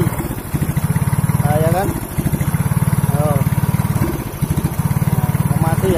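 A Yamaha X-Ride fuel-injected motorcycle with a failing engine sputters in loud, uneven bursts, catching and stumbling near the mic with brief gaps between runs, while someone talks over it.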